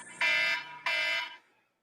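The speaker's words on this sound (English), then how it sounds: "there's my alarm" An alarm goes off indoors during a home live stream: two loud, shrill electronic beeps, each about half a second long, separated by a brief gap, then fading to silence.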